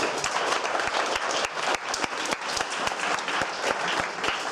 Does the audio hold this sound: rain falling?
no